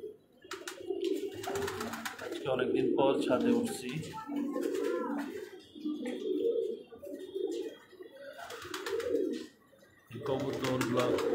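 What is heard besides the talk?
pigeons cooing on a rooftop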